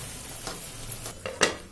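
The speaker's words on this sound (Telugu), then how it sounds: "బాగా కలుపుకొని మూత పెట్టుకొని టొమాటో పండ్లని మగ్గించుకోవాలి" A spoon stirs a beans and tomato curry in a pan, giving a few short scrapes and clinks over a soft background sizzle, close and brief.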